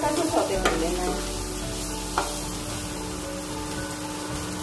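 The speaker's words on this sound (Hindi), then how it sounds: "प्याज को सिर्फ 1 मिनट तक ही भूनना है" Chopped onions sautéing briefly in a pan as the base for tomato soup, a steady sizzle with a few clinks of a stirring spoon near the start, close and alone without talk.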